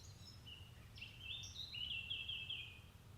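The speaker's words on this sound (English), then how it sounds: "Can you hear the birds?" Birds chirping outdoors, a few faint high tweets and short trilling calls over a low steady background hum, distant and soft.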